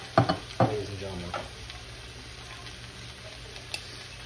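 Butter sizzling in a frying pan, a soft steady crackle with a few sharp clatters and stirring scrapes near the start, then a quieter even hiss.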